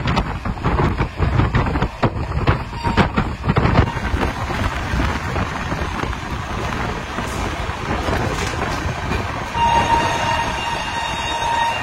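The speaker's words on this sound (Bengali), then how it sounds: "এখন 10:57 বাজে আর ট্রেন ঢুকছে আসানসোলে।" Duronto Express train pulling into Asansol station, a loud rolling rumble with rhythmic wheel clatter and a sustained horn tone near the end.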